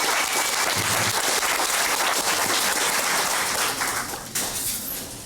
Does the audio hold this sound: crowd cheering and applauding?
yes